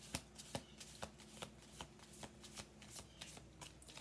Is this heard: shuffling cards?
yes